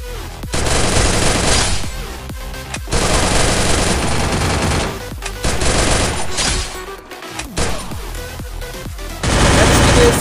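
Rapid automatic gunfire in the Free Fire mobile shooter game, loud repeated bursts separated by brief pauses, with a faint voice underneath.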